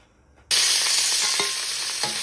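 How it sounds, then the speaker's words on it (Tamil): Shallots, garlic and grated coconut sizzle in hot sesame oil for crab curry, with a sudden loud onset of frying hiss and a few stirring clinks, close and steady. "சின்ன வெங்காயம், உள்ளி, தேங்காய் எல்லாத்தையும் வந்து கொஞ்சம் நல்லெண்ணெயில் விட்டு வதங்க விட போகிறேன்."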